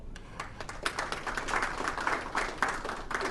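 An audience at a business launch event in Sri Lanka claps after a speech, giving a moderate, steady round of applause with no voices over it.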